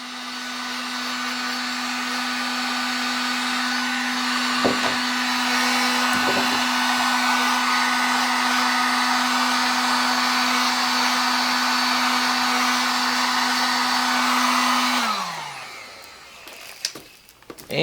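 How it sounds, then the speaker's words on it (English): A heat gun blows continuously while shrinking wrap around a sublimation coffee cup, a loud steady whooshing hum with a constant motor tone that runs for about fifteen seconds, then winds down and cuts off, followed by a few light clicks. "make sure you have a place to sit your heat gun, guys, because you do not want to burn stuff"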